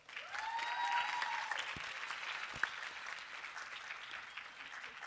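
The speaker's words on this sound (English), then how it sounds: "Let's give the teams a big round of applause." Applause from an audience at an inter-college environmental public speaking competition fills the room, a steady wash of clapping that swells early and slowly fades, heard at a moderate distance without talk.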